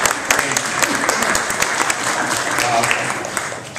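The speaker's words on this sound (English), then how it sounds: "Give them a round of applause" Audience applause for a committee at a charity's 20th anniversary event, a dense steady round of clapping lasting the whole stretch, with some voices mixed in.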